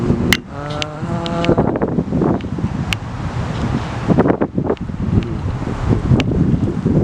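Strong wind gusts among flowering cherry blossom trees in Newport News, Virginia, a loud continuous rushing roar with buffeting on the microphone and a few brief knocks.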